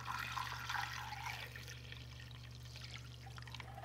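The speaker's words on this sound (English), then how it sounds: "We're going to take chicken broth, and the goal here is to just cover" Chicken broth poured into a slow cooker over turkey legs gives a close, steady liquid splash and trickle, strongest in the first second and a half before thinning to a softer dribble, with a constant low hum underneath.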